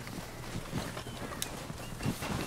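Horse hooves clip-clopping in the video game Red Dead Redemption 2, a soft irregular walking rhythm over steady ambient game noise.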